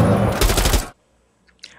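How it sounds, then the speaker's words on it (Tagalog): Gunfire and explosion effects during an ambush burst out loud and dense for nearly a second, then cut to near silence broken by a few faint, brief sounds. "Siya ang sumalo ng mga bala at pagsabog."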